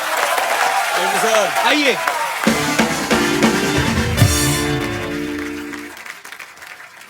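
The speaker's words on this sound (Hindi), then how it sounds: "आदित्य और श्रद्धा के लिए जोरदार तालियां।" The studio audience of The Kapil Sharma Show claps loudly and continuously while voices talk over it and music plays in the background.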